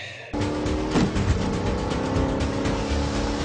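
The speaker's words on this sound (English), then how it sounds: "of course it's a Mustang and it's black" A black Ford Mustang with a Coyote V8 roars in a racing movie scene, a loud, steady engine growl that kicks in abruptly after a brief quieter lead-in and holds close and full throughout.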